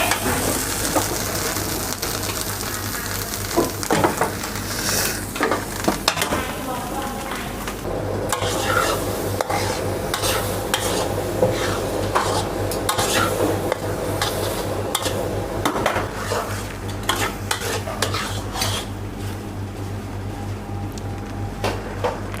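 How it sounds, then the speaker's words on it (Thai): Beaten egg stir-fried in a pan for Thai salted egg sauce, with steady scraping and stirring strokes over a continuous sizzle, close and fairly loud throughout, with occasional clinks of utensil against pan. "เทไข่เทไข่ลงไปผัดไปเรื่อย ๆผัด"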